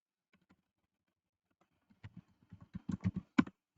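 Computer keyboard typing, a few sparse taps at first, then a quick burst of clicky keystrokes near the end, close and fairly quiet.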